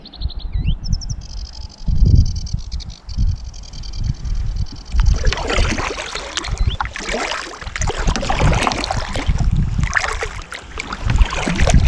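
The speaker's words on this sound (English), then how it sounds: "birds singing" Faint birdsong chirps in the distance at Bala Lake at the start, then gives way to louder kayak splashing, knocking and rustling close by.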